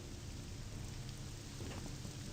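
Steady, faint rain hisses in the Morrowind video game running on OpenMW, an even wash of drops throughout with no voices.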